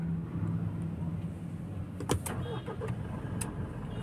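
A push-button start car cranks briefly and its engine catches, with a short burst of starter noise over a steady low idle rumble, heard fairly close with no talk.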